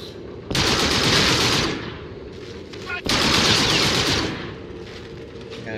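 Heavy automatic gunfire in the shooter Call of Duty: Infinite Warfare, two loud sustained bursts of rapid shots separated by a short pause, close and dominating the mix.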